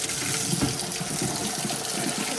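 Hot soapy water gushes from a tap into a sink in a steady, loud, close stream with no break.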